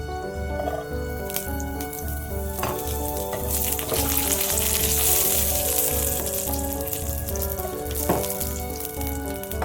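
Raisins frying in hot ghee in a small pan, a bright continuous crackle with occasional pops, heard close and alone under a steady background hum.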